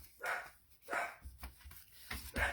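A dog named Drummer barks indoors in a craft room, four separate sharp barks spaced through the moment, fairly close and moderately loud, with no talk over them.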